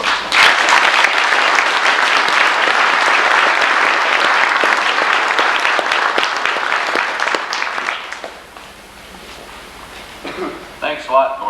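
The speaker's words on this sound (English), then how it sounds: "I'd like to welcome Arnie with a big round of applause." Loud, sustained applause from a crowd, steady clapping that fades out near the end as a voice begins to speak.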